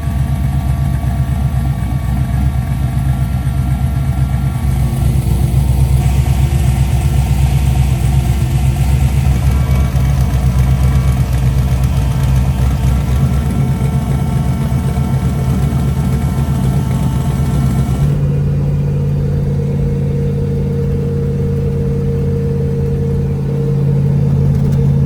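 Truck with an upgraded transmission being driven, its engine droning steadily and loudly for the whole stretch, the pitch shifting partway as it changes speed, with no talking.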